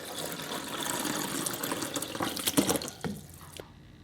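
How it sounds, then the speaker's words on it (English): Water poured by hand into an aquarium pump to prime it for a new fish tank: a steady, close splashing trickle that fades and stops near the end. "So what I do is I put the water into the pump to prime it."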